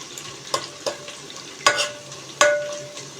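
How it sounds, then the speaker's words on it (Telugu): Peanuts frying in a pan over low heat for poha upma, a soft steady sizzle broken by a few sharp clicks and scrapes of stirring, close and otherwise quiet. "పల్లీలు వేగుతున్నాయండి."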